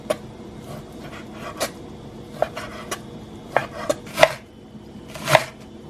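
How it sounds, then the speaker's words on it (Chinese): A knife chops a small piece of pork tenderloin into small pieces on a board, about a dozen irregular close thuds, some louder than others, with quiet gaps and no talk. "需要准备一小块里脊肉，把它切成小块"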